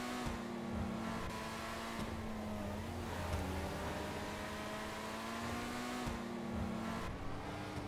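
Engine of the Benefactor Krieger supercar in GTA Online revs steadily, with rising and falling harmonic tones over a constant loud drone, no voices.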